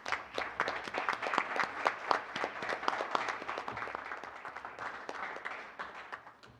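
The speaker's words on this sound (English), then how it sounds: "We're giving a nice round of applause." A room full of people at a board meeting breaks into a dense round of hand clapping that swells, holds, then slowly thins out.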